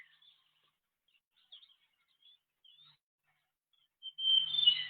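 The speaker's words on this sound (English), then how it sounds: "that is the call in the background is of the white-tailed robin" A trogon and a white-tailed robin call in an upper mid-temperate broadleaf forest in Bhutan: faint, thin, scattered chirps over near silence, ending in a louder burst of calls.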